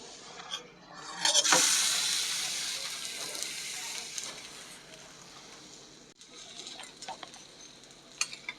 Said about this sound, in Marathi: तव्यावरती घालून घेऊया